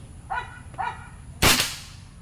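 An out-of-tune PRNB rifle with a GCMAG fires once at target number 13, giving a single sharp, loud crack that decays quickly. Two short tonal squeaks come just before it.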